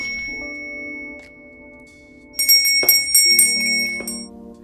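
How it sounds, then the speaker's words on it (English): A bell rings out alone, its bright, sustained metallic tones stacking up and ringing over a low steady hum before a sharper second strike adds a cluster of overtones. "That's the bell. That means Tutley has something for us."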